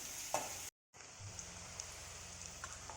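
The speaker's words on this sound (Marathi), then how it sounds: "कांदा चांगला परतून द्यायचा" Chopped onion sautéing in a pan for Maharashtrian bharit, a steady soft sizzle and crackle that drops out briefly before resuming, fairly quiet with no voices.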